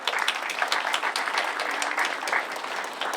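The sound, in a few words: round of applause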